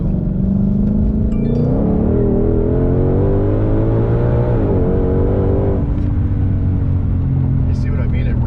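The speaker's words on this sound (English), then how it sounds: "It revs up so high." The engine of a 2020 Ford Mustang Shelby GT500 sports car drones and climbs in pitch as it revs up high, then settles lower, with a person talking over the steady engine noise.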